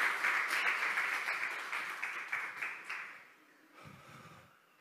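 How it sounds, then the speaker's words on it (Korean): A church audience applauds during a sermon, a dense wash of clapping that holds steady for about three seconds and then fades away to near quiet. "자, 박수 한번 주세요."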